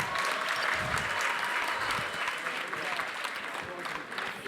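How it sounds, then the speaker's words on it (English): Audience applause fills a gala dinner hall, a steady dense wash of many hands clapping that holds for several seconds and tapers slightly at the end. "Can we give the capital city another big round of applause?"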